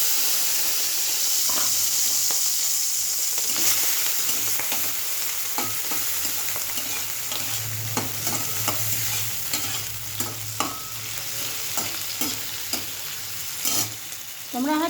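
Prawns fry in hot oil with a little ghee in a wok, a steady close sizzle running throughout, punctuated by repeated scraping stirs of a spatula at irregular intervals.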